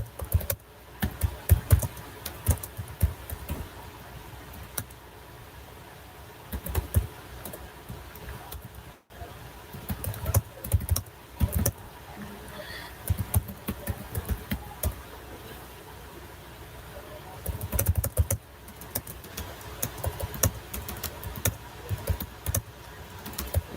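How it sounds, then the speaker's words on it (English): Keys clatter on a computer keyboard in bursts of quick typing with short pauses between, moderately close and alone apart from a faint hum in the room. "so I'll type it out."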